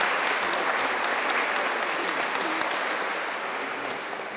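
A crowd at a graduate commencement ceremony applauds with dense, sustained clapping that stays loud throughout and fades slightly toward the end.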